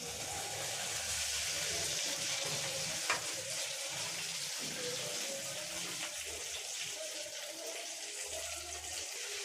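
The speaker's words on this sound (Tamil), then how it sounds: "இப்போ அதே எண்ணெயிலேயே நம்ம வெண்டைக்காவையும் வறுத்தெடுத்துக்கலாம்" Okra frying in the same hot oil used earlier for potatoes, giving a steady broadband sizzle that runs continuously with one brief sharp click partway through, no voices.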